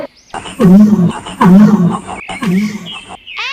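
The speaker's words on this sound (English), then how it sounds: "L for lion." A lion roars three times in a row, deep, loud and close, each roar a long throaty burst with short pauses between, as a sound effect in a children's alphabet song.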